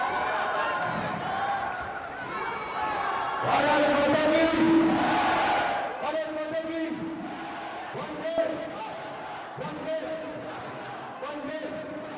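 A home crowd at a World Boxing Cup Finals bout cheers and chants, a swelling roar of many voices that surges and then dips, with rhythmic shouts rising and falling beneath a commentator talking.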